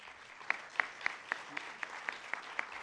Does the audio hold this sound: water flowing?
no